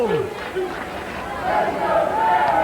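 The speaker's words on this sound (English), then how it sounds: "I'm hearing, let's go Jerry chants, go Red chants" A mixed arena crowd at a wrestling match featuring Jerry Lynn and Red is heard, steady and fairly loud, with chants rising and falling, heard alone.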